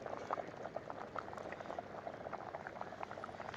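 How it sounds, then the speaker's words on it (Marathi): Chana dal for puranpoli simmers in a pot, a soft continuous bubbling with scattered small pops, low and steady throughout with no voices. "मस्तच आपली डाळ शिजली आहे."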